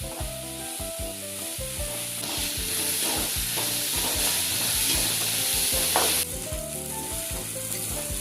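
Banana flower, curry leaves and garlic fry in a pan with a constant bright sizzle, and a steady run of rhythmic stirring knocks sits beneath it, up close.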